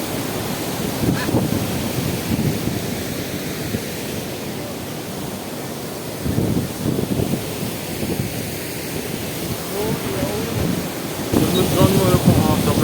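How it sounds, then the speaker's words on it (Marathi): A steady, loud roar of rushing water from the overflowing Kalamba Lake in Kolhapur fills the whole stretch, broad and continuous, swelling slightly stronger near the end. "जोरदार पाण्याचा प्रवाह आहे"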